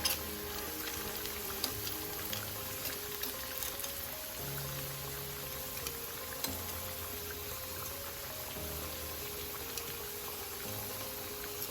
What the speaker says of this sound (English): these have been frying for about 3 minutes now